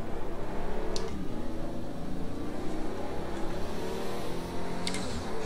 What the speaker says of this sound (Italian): non so se sono le cuffie, ma si sente il motore dietro.